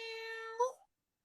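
A cat gives one drawn-out meow that rises at the end and then cuts off, heard close and fairly quiet.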